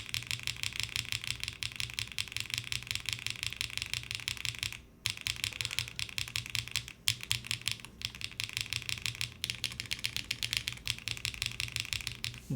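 Rapid typing on an aalto mechanical keyboard as a sound test, a dense stream of close, crisp clacking keystrokes with a couple of brief pauses and occasional heavier key hits, no talk.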